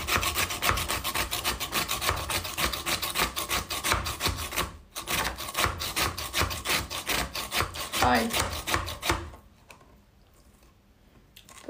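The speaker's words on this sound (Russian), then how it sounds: "Проще уже нарезать соломкой, чем мучиться с этой тёркой." Vegetables are grated by hand on a grater in rapid, rhythmic rasping strokes, loud and close, with a brief pause midway and a short exclamation before the scraping stops.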